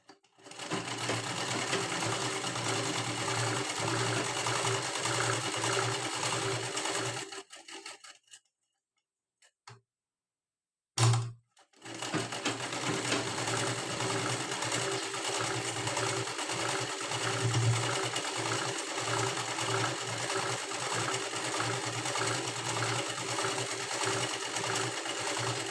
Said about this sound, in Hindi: और सीधी सिलाई लगानी है।